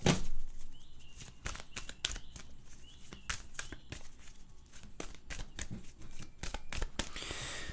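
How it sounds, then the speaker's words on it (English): Oracle cards being shuffled by hand, a rapid run of crisp riffling slaps and flutters repeated steadily at close range, with no talking. "I'm gonna grab some oracle cards."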